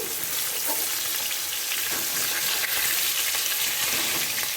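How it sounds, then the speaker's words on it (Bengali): Fish sizzles loudly and steadily in hot mustard oil in a pan right after being flipped, a dense continuous crackle with no pauses and no voices. "মাছগুলো আমি উল্টে দিচ্ছি"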